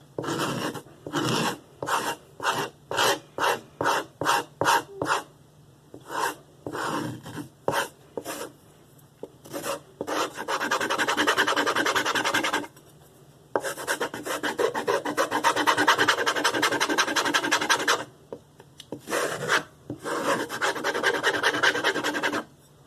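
Leather knife strop being rubbed clean with a rasping scrub, first as a run of quick separate strokes, then in longer continuous stretches broken by short pauses, close and steady with no talking.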